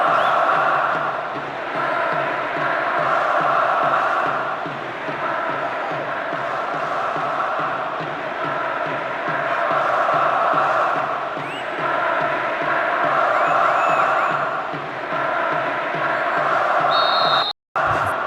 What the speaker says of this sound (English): Supporters of both teams are creating a tremendous atmosphere in the stadium for this group stage match